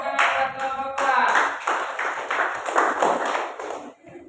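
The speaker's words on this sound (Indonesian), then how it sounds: "Tepuk tangan buat kelompok kelas." A classroom audience claps for a student group that has just presented, a quick rhythmic burst of handclaps in uneven pulses that stays fairly close and loud, then cuts off abruptly near the end.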